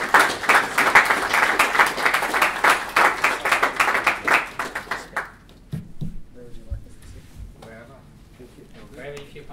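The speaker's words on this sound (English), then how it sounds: "Please give them a round of applause." An audience applauds panelists and a moderator at an event, brisk clapping that fades out midway, followed by quiet room noise and a voice speaking.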